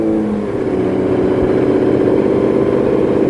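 A vintage 1960s–70s road race car idles cold in a cramped pit, a loud, steady engine rumble with a slight swell near the start and no break throughout.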